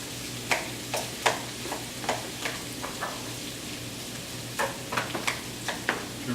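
Margarine is stirred into a frying pan with celery, giving soft repeated scraping strokes at an irregular rhythm over a steady low sizzle and hum.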